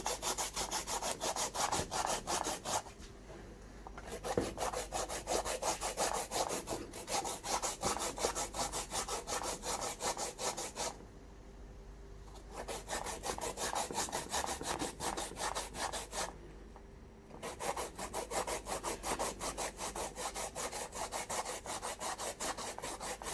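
Rapid, steady rasping of peeled sweet potato being grated by hand, a rhythmic scrape repeating several times per second, close and continuous with two brief pauses.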